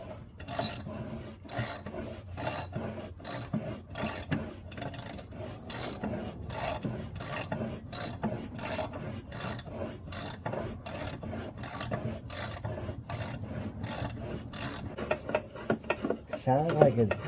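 A ratchet tightens an oil pan bolt on a 2021 Kenworth T680, a dense run of rapid, evenly spaced metallic clicks going on steadily at close range, with a few louder bursts near the end.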